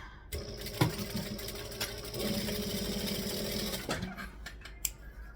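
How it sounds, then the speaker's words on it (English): A sewing machine stitching the side seam of a garment runs in one steady, close, mechanical whir for about four seconds, then stops with a few clicks. "We're going to stitch the side"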